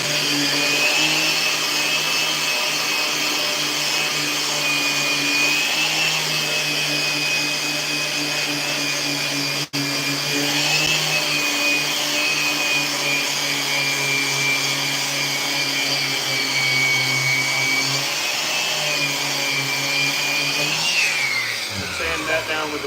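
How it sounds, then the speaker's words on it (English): A skateboard deck is being sanded with 150 grit sandpaper in a board-making shop, heard as a loud, steady machine drone with a constant whine that runs unbroken for over twenty seconds before tapering off at the end. "Sand that down with the 150"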